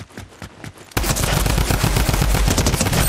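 Gunfire in a Fortnite Creative one-on-one match: a few spaced shots lead into a sudden, loud, continuous burst of rapid automatic fire close by.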